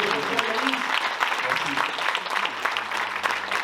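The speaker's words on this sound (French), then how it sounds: "J'aimerais qu'on l'applaudisse très très fort." Audience applause at the CAPEB 06 general assembly in 2024: a dense, steady wash of clapping from a seated crowd, close and continuous for several seconds, with faint voices beneath.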